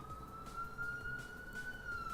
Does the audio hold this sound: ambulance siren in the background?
yes